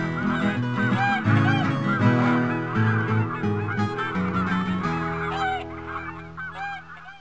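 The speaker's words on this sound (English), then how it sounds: "A gaggle of galloping geese with guitars." Geese honk in a Living Books computer game, a gaggle of cartoon geese with guitars, their calls layered over bright, busy music that plays throughout.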